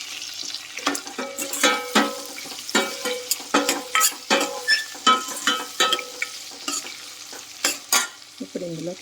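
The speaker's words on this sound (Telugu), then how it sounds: "పచ్చిమిర్చి కూడా యాడ్ చేసుకొని అన్నీ కూడా బాగా ఫ్రై చేసుకోవాలి" Green chillies fry in a pan, with repeated rhythmic stirring scrapes over a steady sizzle, close by and without speech.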